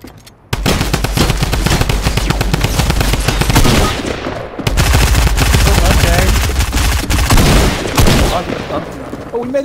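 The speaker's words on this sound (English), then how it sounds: "Oh, they're shooting at me." Rapid automatic gunfire in the video game Fortnite, loud and close, with dense sustained bursts broken by a brief pause before firing resumes.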